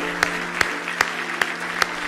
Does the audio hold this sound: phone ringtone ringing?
no